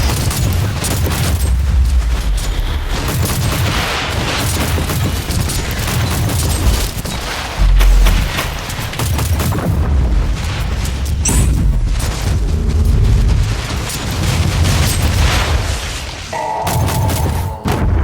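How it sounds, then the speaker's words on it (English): A rocket turret firing in a steampunk-style game, producing a steady stream of deep booms and thuds that layer into a continuous heavy rumble with occasional louder blasts. "Yeah, it's my turret. I have my rocket turret."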